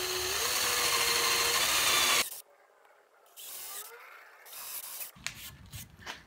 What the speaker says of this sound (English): So I'll just use my 8mm brad point bit to do that.